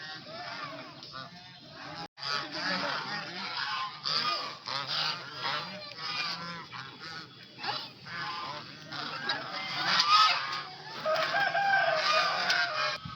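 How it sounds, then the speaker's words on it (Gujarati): Geese honk repeatedly at close range at Sundarvan in Ahmedabad, with rooster and chicken calls mixed in and faint voices underneath. "આ બધા હંસ"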